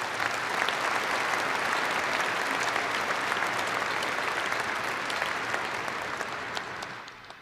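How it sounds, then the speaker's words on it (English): A large crowd at a 2018 University of North Dakota undergraduate commencement ceremony claps in steady, sustained applause that fills the hall and fades slightly at the end. "Let's give a big round of applause for everybody supporting our students here today."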